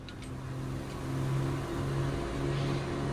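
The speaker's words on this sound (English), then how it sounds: "What's wrong with the engine, Skip? Nothing, Jimmy. It's just Battersby's on the throttles." Steady droning of a WWII bomber's engines as the throttles are worked, a continuous mid-pitched roar with a sustained hum that swells slightly and then holds, close and loud throughout with no talk.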